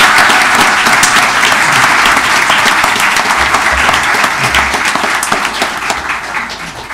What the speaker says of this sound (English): One last round of applause for the